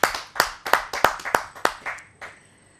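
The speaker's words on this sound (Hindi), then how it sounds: "आप सबकी जोरदार तालियों से।" A kavi sammelan audience applauds to welcome advocate-poet Meera Chaudhary from Mathura, with roughly eight sharp, close claps in a brisk rhythm that thin out and fade at the end.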